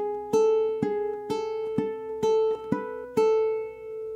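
A ukulele plays the second bar of a riff in a rock style, with about eight clear plucked notes in a steady rhythm over a sustained ringing tone, close and alone.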